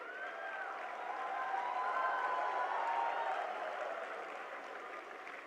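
Steady applause from a large audience at a youth leaders' dialogue event with the Prime Minister, swelling in the middle and easing slightly toward the end, with crowd murmur mixed in.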